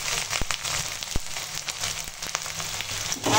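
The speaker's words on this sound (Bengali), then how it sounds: "পেঁয়াজটা ভেজে নেব।" Onion sizzling and frying in hot oil in a kadai, a steady crackling hiss with scattered sharp pops, close up and alone with no talk.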